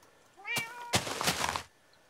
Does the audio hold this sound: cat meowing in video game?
yes